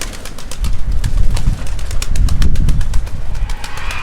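Pigeons cooing in a loft, a steady close chorus of low throaty coos overlapping one another, with faint fluttering and small bird sounds around them, no talking.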